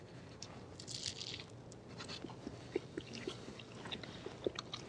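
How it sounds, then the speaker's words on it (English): Someone chews a bite of crunchy pan-cooked black bean and corn quesadilla, close and intimate, with irregular crisp crunches and moist mouth sounds over soft room noise. "I'm gonna have one more bite because this is pretty good."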